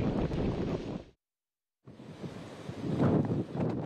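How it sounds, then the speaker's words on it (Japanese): Strong wind from a powerful typhoon roars across a port on Oshima island, with waves crashing over the high seawall. A loud, broadband rush buffets the microphone, breaks off briefly, then resumes just as strong. "現在強い風が吹いています。 そして時折高い岸壁を乗り越えて波が打ちつけています。"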